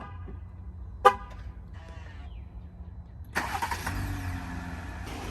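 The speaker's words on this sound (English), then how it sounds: "So if your truck is equipped, you can remote start by clicking this twice." A 2022 Jeep Gladiator Mojave remote-starts: a couple of short horn chirps and beeps come first, then the engine cranks and catches, settling into a steady close idle.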